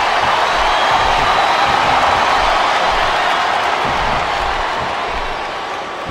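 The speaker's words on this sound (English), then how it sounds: "I think these superstars are getting some feedback from the crowd, JR." A wrestling crowd in Smackdown vs Raw 2007 roars with a steady, dense wash of cheering and applause, loud and continuous, fading slightly near the end.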